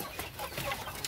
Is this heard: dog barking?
no